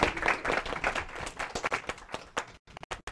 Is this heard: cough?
no